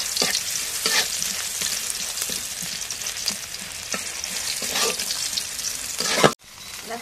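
Oil heats with bay leaves in a kadai, giving a steady, close sizzle with regular stirring scrapes before it cuts off abruptly near the end.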